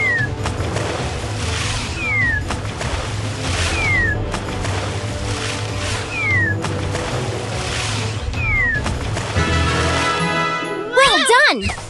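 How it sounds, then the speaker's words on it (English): Cartoon cat meowing in the My Little Pony Harmony Quest video game, several short rising-and-falling meows repeated over a busy game soundtrack of music and effects, ending in a quick burst of wavering cries. "Crazy cat alert!"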